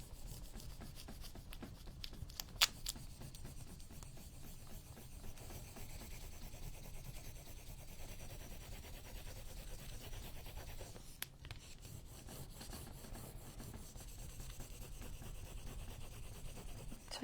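Paper being rubbed down onto a junk journal page makes a soft, continuous scratchy rubbing at close range, steady and quiet with a couple of brief sharper scrapes and no talking.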